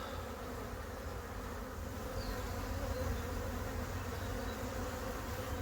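A soft, steady hum of many honeybees buzzing around a hive on a warm autumn day, continuous and fairly close, with no voices.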